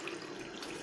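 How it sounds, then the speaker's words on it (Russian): A washroom tap in Novy Svet, Crimea, runs a steady stream of sulphurous hydrogen-sulphide mineral water, a soft, even hiss and splash into the basin with no voices. "из крана текет сероводородная вода"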